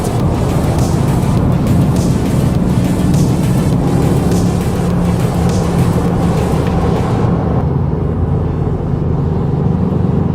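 A 2024 BMW M4 Competition convertible drives through the desert with a loud, steady engine drone and rushing wind, the upper hiss dropping away near the end while the low engine rumble continues.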